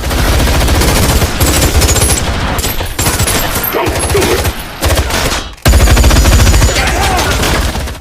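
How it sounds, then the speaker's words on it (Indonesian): A heist-robbery shootout in the film Wrath of Man unleashes loud, sustained automatic gunfire, dense rapid bursts with brief gaps before the barrage resumes even harder. "Hingga terjadi tembak-menembak."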